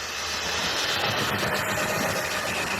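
A Lima 94XX Pannier model locomotive's small electric motor runs continuously, making a faint, even whirring hiss with a low mechanical hum underneath.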